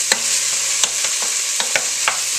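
Tomatoes fry in a hot pan with a bright, steady sizzle, and a utensil clicks and scrapes against the pan at a fairly regular rhythm, close and fairly loud.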